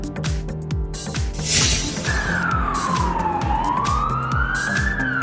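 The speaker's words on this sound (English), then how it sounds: "Poland Police Car." A Polish police car siren wails loudly and close, sweeping up and down in pitch, layered over a rapid repeating electronic pulse.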